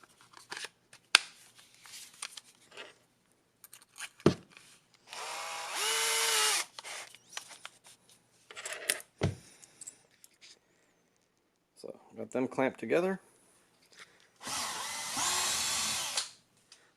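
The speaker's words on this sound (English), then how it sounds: "drill out the hole here with a 1/8 inch drill bit" A 1/8 inch bit drills through stainless steel and bronze pieces clamped together, in two sustained whining bursts separated by short talk and handling clatter.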